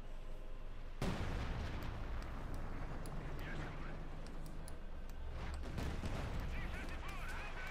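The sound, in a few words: tank gunfire and artillery in video game Company of Heroes 2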